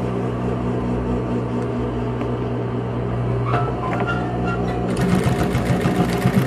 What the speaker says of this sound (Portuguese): E passa aqui a costura de segurança.